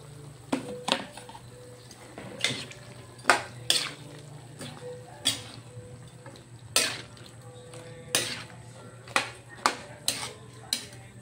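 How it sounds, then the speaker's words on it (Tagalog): Potato chunks drop into a simmering pot of chicken curry with dairy cream, making a series of irregular clinks and soft plops, close and moderately loud, over a low steady background hum. "Lagay naman natin ngayon ang patatas."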